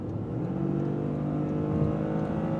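A 2025 Toyota GR Corolla with an automatic gearbox at wide open throttle, its engine a loud, steady, building drone heard from inside the cabin for the whole stretch.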